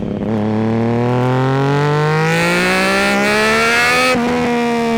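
A Triumph Daytona 675 motorcycle pulls along a road, its engine rising steadily in pitch under acceleration, loud and close, then holding high revs after a brief dip near the end.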